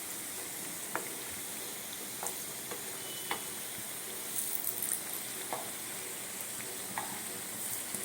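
Puri khaja pastries frying in hot ghee give a steady, close sizzle with scattered sharp pops and ticks throughout, no voices.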